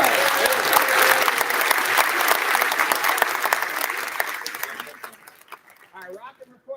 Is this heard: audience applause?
yes